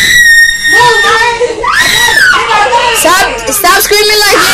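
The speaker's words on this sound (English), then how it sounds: "Stop screaming like you're in jail." Loud, shrill screaming from a man among a group of friends messing around, with overlapping excited voices and yelling through the whole stretch.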